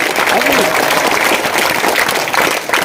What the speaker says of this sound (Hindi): एक बार जोर से तालियां बजाकर स्वागत करो